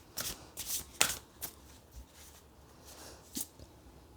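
Tarot cards are shuffled by hand in a quiet room, giving soft, scattered riffling bursts and light taps, close and fairly quiet, with short pauses between them and no speech.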